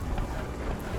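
Steady headwind blowing across the open sea in the pirate sailing game Sea of Thieves, a low continuous rushing roar with slight gusting, filling the short moment with no voices over it.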